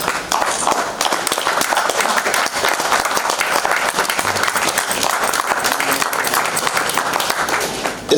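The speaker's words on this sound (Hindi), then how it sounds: "आप लोग ताली तो बजाते हैं" Theatre audience at a play breaks into sustained, dense applause, many hands clapping steadily and loudly for several seconds.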